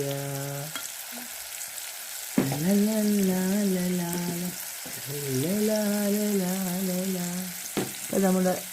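Chura fish fry in hot oil with a steady, hissing sizzle, while a melodic singing voice carries over the top throughout.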